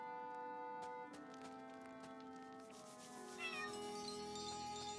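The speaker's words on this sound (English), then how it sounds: "And there's a cat on our base" A cat meows in the video game Chained Echoes, short game-style calls heard over steady tonal background music with no talking.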